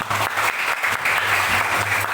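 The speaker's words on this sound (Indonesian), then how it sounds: "tepuk tangan" A classroom of students claps together in steady, even applause, filling the room continuously from start to end.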